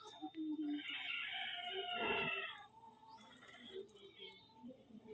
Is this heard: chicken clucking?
yes